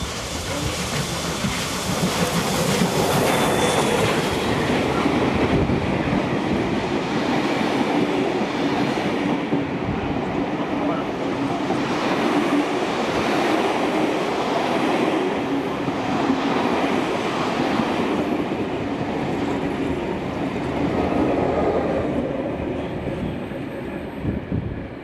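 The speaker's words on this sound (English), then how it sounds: "5917 is seen passing through Carlton on its return run to Tempe from Kiama" Locomotive 5917 runs through Carlton station on its return trip from Kiama to Tempe in New South Wales. A steady, loud, close rumble of rolling wagons and clattering wheels carries on for the whole stretch, with no talking.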